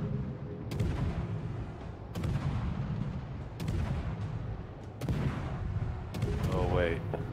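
Naval guns firing in World of Warships: four evenly spaced loud salvos about a second and a half apart, each with a rumbling tail. A brief voice is heard near the end.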